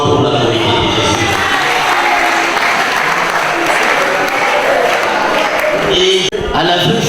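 Conference audience in Kinshasa breaks into sustained, loud applause with some crowd cheering, clapping continuously for several seconds before it briefly cuts out near the end.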